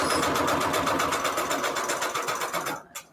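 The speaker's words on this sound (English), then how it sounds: "now we're gonna sew these words on here" A sewing machine stitches words onto paper in a fast, even run of mechanical clatter close by, then slows and stops near the end.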